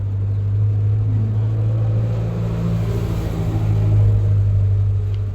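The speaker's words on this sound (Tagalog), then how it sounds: "Mayroong malalaking sasakyan guys na dumadaan." Large trucks, including a water delivery vehicle, pass by on a road outside, giving a steady low rumble that swells and fades at moderate distance, with no voices over it.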